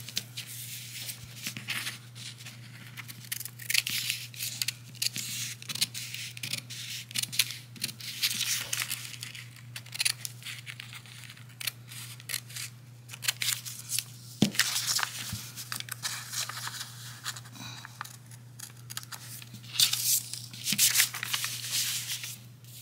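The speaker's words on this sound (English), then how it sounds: "I'm going to cut that out now so you can see." Scissors snip through the fabric of beginner biking shorts while the rise is being shortened, giving repeated crisp cuts and rustling of cloth at close range, with a steady low hum underneath and no talk.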